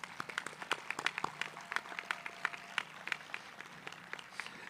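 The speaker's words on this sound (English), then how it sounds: "So I would like to give our families a huge round of applause." A modest crowd at a school graduation claps steadily for several seconds, the sharp individual claps distinct and fairly faint, as if heard from across a room.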